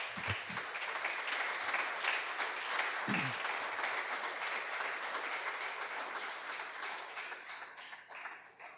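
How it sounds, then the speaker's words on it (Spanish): Congregation applauding in a church during a sermon, a steady wash of clapping heard from a distance with a few low thumps near the start, continuing for several seconds. "Denle un aplauso al Señor."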